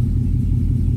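A Chevrolet Silverado truck engine idles at around 600 to 700 RPM, a steady low rumble with no change in pitch through the whole second.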